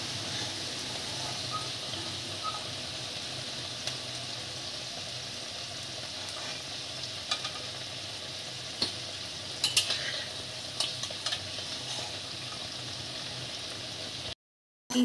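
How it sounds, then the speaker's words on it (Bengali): Lentil dumplings (bori) fry in hot oil with a continuous bubbling, hissing sizzle, steady and fairly quiet. Faint scattered crackles and pops come through before the sound cuts off abruptly near the end. "বড়গুলো ভাজা হয়ে গেছে"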